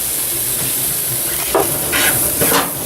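About two tablespoons of curry powder hiss and sizzle in a hot pan for a vegan chickpea curry, a steady frying hiss broken by a few louder scraping stirs near the end, close and with no talking.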